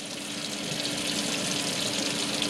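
Running water rinses product out of lab glassware in a steady, soft hiss and splash, with a faint continuous hum beneath and no voices.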